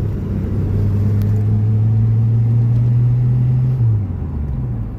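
An old manual Ford Capri that had sat unused runs and drives, its engine a loud, steady low rumble that holds an even pitch, then drops as the revs fall near the end. No voices.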